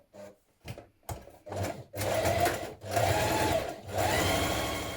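A sewing machine runs a slight zigzag stretch stitch at reduced stitch length on a hoodie seam, starting with a few short bursts and then settling into steady continuous whirring, close and unaccompanied by talk.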